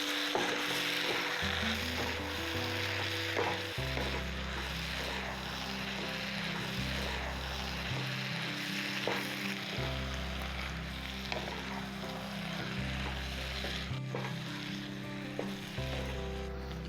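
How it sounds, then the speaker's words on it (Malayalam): Mushrooms for a pepper fry being stirred in a hot pan, a constant dense sizzle with frequent spatula scrapes, over a low humming drone that shifts pitch throughout. "മഷ്റൂം ഇട്ടു. എന്നിട്ട് ഇത് നല്ല രീതിയിൽ ഇതൊന്ന് ഇളക്കി കൊടുക്കണം."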